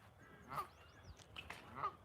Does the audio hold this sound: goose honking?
yes